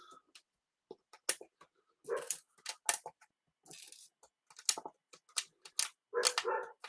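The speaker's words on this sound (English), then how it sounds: "Oh, the dog's barking." A dog barks repeatedly in short, sharp bursts, sometimes loud and sometimes quieter, mixed with clicks and small clatters of Lego round tiles being handled nearby.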